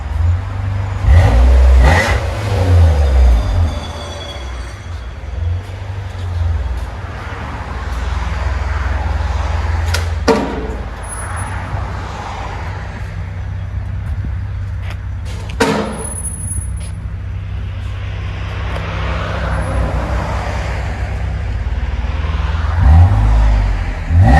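A Nissan Maxima 3.5L V6 with its resonator removed idles with a deep, loud exhaust rumble, punctuated by a few sharp revs that swell and fall back, with no talking.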